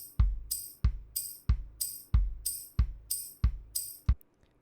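Sampled MIDI drum kit playing a steady groove: punchy kicks with bright cymbal or tambourine hits on regular beats, about seven even strokes, close and dry, no talking.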